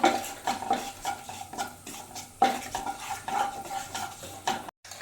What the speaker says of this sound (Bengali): আস্ত জিরেটা দিয়ে ভালোভাবে একটু নেড়ে চেড়ে নেবো। তো জিরেটা একটু ভাজা ভাজা হোক